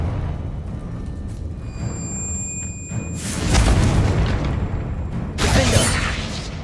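A Confringo spell fires off in Hogwarts Legacy, landing as two loud, broad explosive bursts about two seconds apart over a steady game background with tonal effects.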